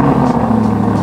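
A family car's engine idles and rumbles steadily at close range, a low, even drone with no talking.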